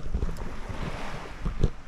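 Sea surf washes against a rocky shoreline in a steady, windy roar, with a couple of soft wave thumps and no voices.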